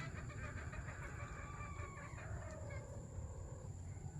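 Chickens on a backyard farm, with faint clucking and a rooster call carried over a constant low rumble and hiss of outdoor background noise.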